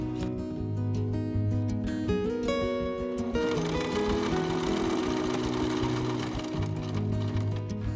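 A sewing machine stitches a corset girdle seam, running steadily and close for the whole stretch with a busy mechanical whir and shifting tone, and no one speaking.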